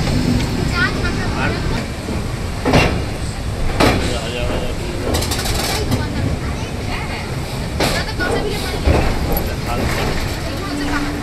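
The 13147 Uttarbanga Express running at speed near Bidhannagar: a steady, loud broadband roar and rumble with wind-like rushing and intermittent clattering bursts throughout.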